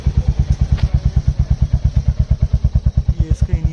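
A Royal Enfield Hunter 350 motorcycle with its stock exhaust swapped for a loud bass exhaust idles close by. The deep, steady thumping beat stays even throughout, with no talk.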